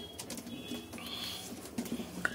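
Pigeons sitting in a netted coop, with soft low cooing and faint rustling of wings close by, quiet and intermittent against a light background.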